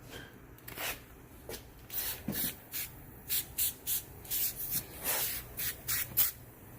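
Quiet bursts of spraying, a dozen or so short hissy pumps in an irregular rhythm, close by with no talking.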